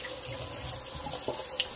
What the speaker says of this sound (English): Wash them with some more salt water till the water runs clear.